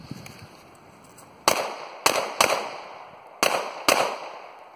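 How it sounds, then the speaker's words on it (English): Five sharp pistol shots from a Taurus handgun fired in cold weather, loud and close, each with a brief decaying tail; two come in quick succession, then a pause before the next pair and a final shot, with no talking. "I wasn't really satisfied with the shooting, so we're going to try her again."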